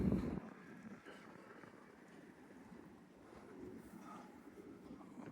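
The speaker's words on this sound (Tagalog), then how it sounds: "super lakas na hangin" Low, rumbling strong wind buffets the microphone with a gusty roar that rises and falls, no voices present.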